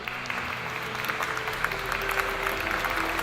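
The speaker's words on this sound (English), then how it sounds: "the entire table bursts into applause." A table of people breaks into steady clapping, dense and sustained throughout, with scattered faint voices mixed in.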